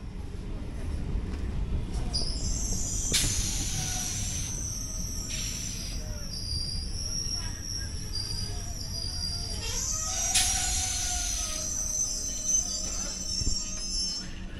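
A Sealdah to Bangaon local train runs near Machlandapur station with a constant rumble of wheels on the rails. High metallic squeals rise and fade at intervals over the din.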